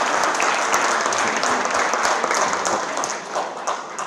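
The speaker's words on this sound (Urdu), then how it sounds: "ایک اور غزل سے شعر, تالیاں بجا دیجیے." An audience at an international mushaira poetry event in Bahrain applauds loudly and continuously, with the clapping tapering slightly toward the end.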